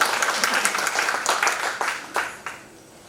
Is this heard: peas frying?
no